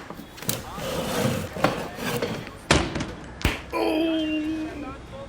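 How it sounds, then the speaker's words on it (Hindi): A sleeping shopkeeper tumbles off a chair in fright after a steel bottle is slammed on a shop counter, giving a few hard wooden thuds and knocks amid scraping, with a voice and music-like tones coming in at the end. "डर के मारे दुकानदार नींद में कुर्सी से गिर गया।"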